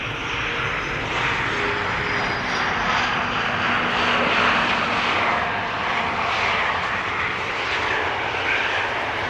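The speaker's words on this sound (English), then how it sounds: "another KLM Embraer just touched down on the runway over here" A KLM Embraer E2 jet landing at Amsterdam Schiphol airport, a steady, loud roar of engines and rushing air that holds evenly throughout with a faint whine on top, no talk over it.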